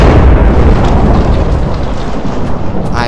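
Thor's hammer mod in Minecraft smashing a village, heavy rumbling explosion-like booms filling the whole clip, loud and dense, no talking.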